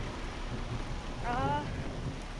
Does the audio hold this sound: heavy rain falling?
yes